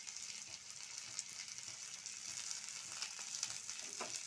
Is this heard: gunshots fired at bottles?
no